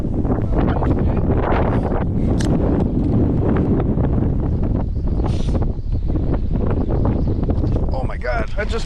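Strong gusty wind buffeting the microphone on a Wisconsin lake during spring fishing, a loud continuous roar with people talking over it.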